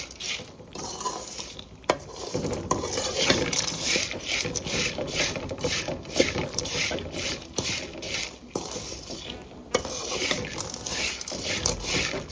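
Spicy puffed rice being tossed and stirred in a pan over a low flame gives a continuous dry rustling and scraping, with sharp clinks of the spoon against the pan at irregular intervals.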